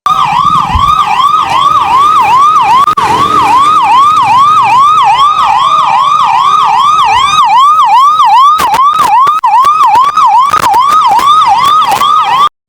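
Sirens from a fleet of new mobile medical unit ambulances departing, a loud close wailing that rises and falls in fast regular cycles throughout, several sirens overlapping, with a few sharp knocks near the end.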